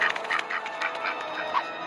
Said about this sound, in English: What are these? They are called the snow geese.